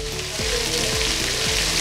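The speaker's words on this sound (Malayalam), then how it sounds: "പിന്നെ നമ്മുടെ വെജിറ്റബിൾസ് എല്ലാം നന്നായി നമുക്കൊന്ന് മിക്സ് ചെയ്തെടുക്കാം." Mixed vegetables with capsicum sautéing in a pan for vegetable pulao, a steady close sizzle broken by a few soft scraping stirs, with no talk.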